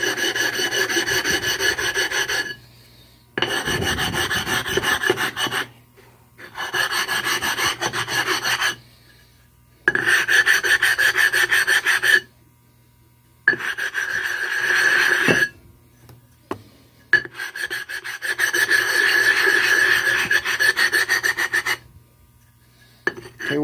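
Gold Dollar 208 plane blade rubbed back and forth on a wet sharpening stone in repeated gritty rasping bursts separated by short pauses, close and loud.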